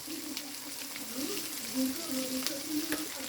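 Cumin and turmeric powder sizzle in a pan while chicken curry is being made, a steady soft frying hiss with faint stirring scrapes and a low voice underneath.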